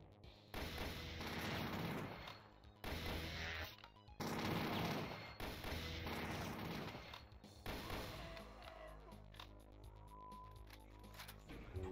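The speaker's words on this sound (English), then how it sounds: "the sawed-off shotguns made quick work of him" Sawed-off shotgun fire in the video game Doom 2, a run of loud booming blasts separated by short gaps, then the action settles into quieter game sounds, with no talking.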